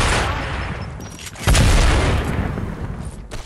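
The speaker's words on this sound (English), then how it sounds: "The sticky grenade!" A sticky grenade detonates in a video game, a sudden loud boom about halfway through that holds as a rumbling blast over ongoing gunfire-like game noise.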